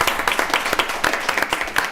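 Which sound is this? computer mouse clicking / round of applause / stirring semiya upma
round of applause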